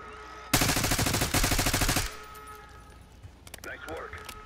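Gunfire in Call of Duty Black Ops 6 comes as a loud, dense rattling automatic burst lasting about a second and a half. It cuts off into a quieter background with a brief voice-like sound near the end.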